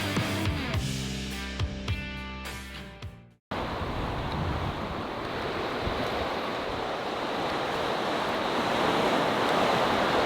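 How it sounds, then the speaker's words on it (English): Strong wind, around 37 miles per hour, blasts across the Arctic tundra in Norway as a loud, continuous roaring rush after a brief burst of music cuts off. "It's 37-mile-an-hour winds right now"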